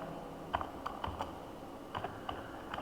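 Quiet, scattered keystrokes on a computer keyboard, a few isolated clicks and short clusters at an uneven pace over a low steady hum, with no voice.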